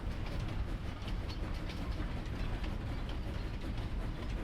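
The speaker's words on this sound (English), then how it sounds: "It is a very cool train there, Mason." A train passing in the Farming Simulator 25 video game gives a continuous, fairly quiet rolling rumble with a faint clickety-clack of wheels over the track, steady from start to finish.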